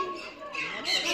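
Birds in the Sidkeong Bird Park aviary in Pelling give short harsh squawks, several calls in quick succession, fairly close and loud over a faint background.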